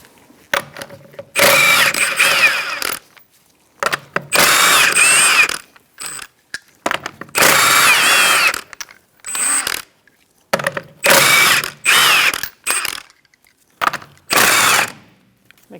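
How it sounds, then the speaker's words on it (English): Power tool with a 21mm socket spinning lug nuts off the rear wheel of a 2004-2009 Mazda 3, loud whirring bursts of a second or two, repeated five times with short quiet pauses between. "Using a 21mm socket, we're going to remove our lug nuts to remove our wheel."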